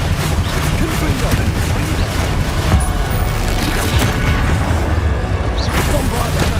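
Confringo fire-spell blasts in Hogwarts Legacy combat: a dense, loud, continuous roar of explosive bursts and crackling impacts, with sharp pops layered through the din.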